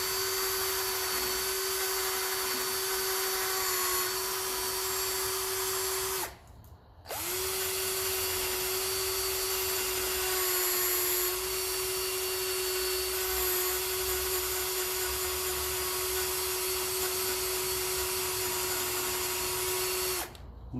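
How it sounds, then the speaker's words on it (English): A Dremel rotary tool fitted to a drill grinds hard paint on a 1954 Ferguson TEF 20 diesel tractor, whining at a steady high pitch for a long stretch, briefly stopping once before starting up again. "A quick rub of the Dremel, I think, should make life easier."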